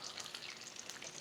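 Cauliflower florets for Gobi Manchurian crackle in hot oil during their first deep-fry, a brief dense bubbling sizzle heard up close with no voices.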